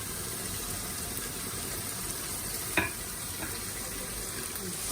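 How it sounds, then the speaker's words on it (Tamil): Tomatoes sautéing with a pinch of salt in a pan for a homestyle chicken gravy give a steady soft sizzle, with one brief scrape of a spoon partway through. "இதோட சிறிதளவு உப்பும் போட்டு வதக்கணும்னா தக்காளி கொஞ்சம் சீக்கிரம் வதங்கிடும்."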